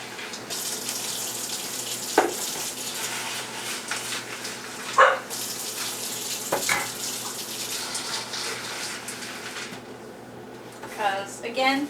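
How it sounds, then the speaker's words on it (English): Water runs from a household tap into a dog's food bowl, a steady splashing stream with a few clinks and knocks, alongside a dog and some quiet talk. "Add some water."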